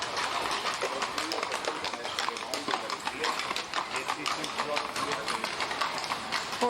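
Horses' hooves clip-clopping on a street in Salzburg, Austria, a steady stream of close taps over busy outdoor crowd noise and people talking.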